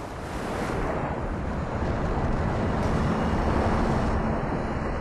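Sea surf and wind wash steadily at a glacier front where chunks of ice break off into the ocean, a continuous broad roar with rumbling wind on the microphone.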